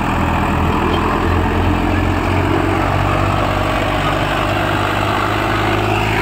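A Swaraj 744 XT tractor engine runs steadily in a loud, continuous diesel drone with a constant low throb, heard close and without any voices.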